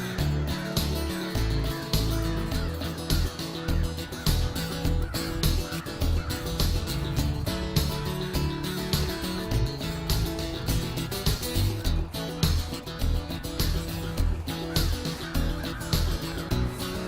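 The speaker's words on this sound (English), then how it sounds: "This is a great horned owlet, about 10 days, 2 weeks old." A young great horned owlet, roughly ten days to two weeks old, calls continuously in harsh, raspy bursts, loud and close throughout with a dense, steady texture and no speech.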